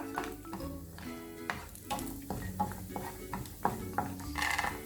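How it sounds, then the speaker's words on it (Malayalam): Cashew nuts frying in hot ghee in a pan, a steady close-up sizzle and crackle with light scraping and stirring clinks over a few seconds. "നെയ്യ് നന്നായി ചൂടായിട്ടുണ്ട്. അതിലേക്കൊരു അല്പം അണ്ടിപ്പരിപ്പ് ഇട്ട് കൊടുക്കുക."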